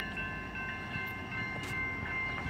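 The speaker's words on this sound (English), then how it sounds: "Train's getting closer and closer and closer." A train rumbles steadily nearby on a hot day beside the tracks, a continuous low roar with a faint high tonal ring above it and no voices.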